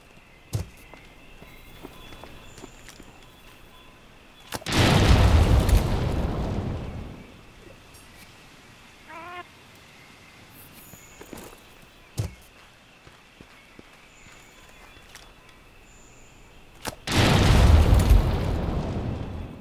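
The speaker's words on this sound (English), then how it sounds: "let's test some mega barrel bombs at the good old dummy post at the training area" Mega barrel bombs detonating against a dummy post in a Monster Hunter training area: two heavy, booming blasts spaced well apart, each with a rumbling tail, over quiet game ambience with occasional light steps.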